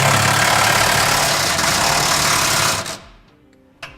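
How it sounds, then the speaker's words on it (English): Power tool with a 15/16 inch socket tightening 5/8 bolts on a sliding fifth wheel hitch on a Ram truck: a loud, steady, close whir that runs continuously, then winds down and stops, followed by a single faint clack. "I'm going to be using a 15/16 inch socket to tighten up my bolts."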